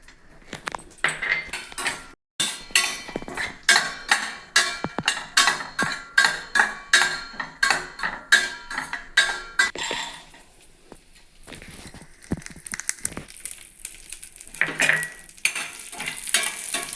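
Almonds fry in about three spoons of ghee in a pan on low heat, with a steady run of rhythmic spoon scrapes and clinks against the pan over a soft sizzle, which continues more quietly after the stirring pauses.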